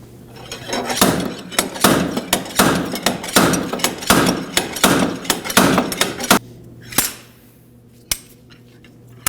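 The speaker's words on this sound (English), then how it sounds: "We'll be using a slide hammer to remove the hub from the bearing." Sharp metallic impacts from a slide hammer pulling a front wheel hub off its bearing on a 1993-2001 Subaru Impreza, a quick series of about a dozen blows, then a few isolated hits after a pause, close and loud.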